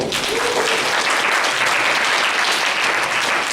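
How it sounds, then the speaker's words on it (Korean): A church congregation claps during a Sunday worship service. The applause is loud, close and continuous, with a full room of hands clapping evenly throughout. "박수 한번 주실래요?"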